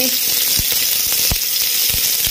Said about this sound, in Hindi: अब इसको थोड़ा सा भून लेंगे